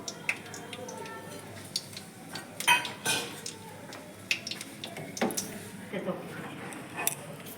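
Cardamom, cinnamon and cloves are pounded in a kitchen, giving irregular, close metallic knocks and clinks of varying strength over a low background hum.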